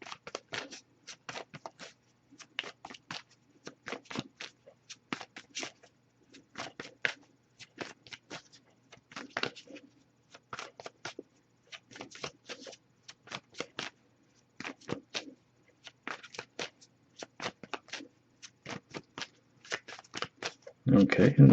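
Tarot cards shuffled by hand in repeated quick riffling bursts, close and crisp, with short pauses between runs and a louder thump at the very end.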